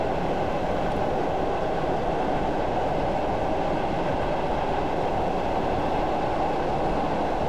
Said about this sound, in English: I'm just going to allow the train to continue to coast momentarily